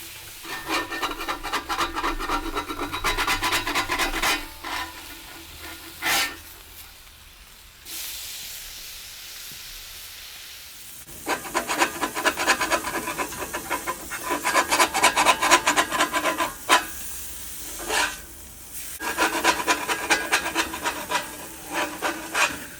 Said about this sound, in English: I then scrape those yummy melanoidins off the cast iron.